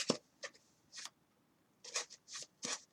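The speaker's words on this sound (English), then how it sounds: "And you're going to shuffle" A 60-card deck of playing cards is shuffled in quiet, short riffling bursts with small gaps between them, close but soft.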